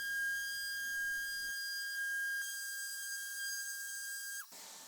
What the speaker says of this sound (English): I can just finish by sanding it flush.